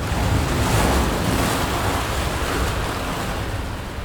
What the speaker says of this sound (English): a wave forms in front